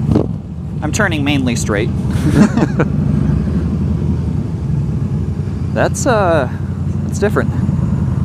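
Cruiser motorcycle engine idling and rumbling steadily on a road, a low continuous drone running beneath frequent talking from the riders.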